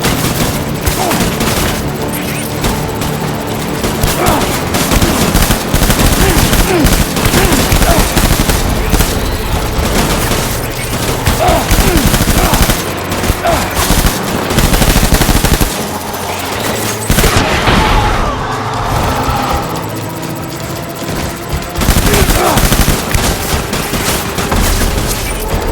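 Machine gun fire in Death Stranding video game, sustained loud bursts of automatic shooting with heavy booms mixed in, continuing almost without pause and briefly dropping off near the middle.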